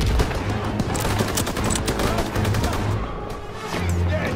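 Rapid bursts of gunfire in Call of Duty WW2 crackle continuously through a World War II trench battle, with overlapping rifle and machine-gun shots, while a player talks over the clatter.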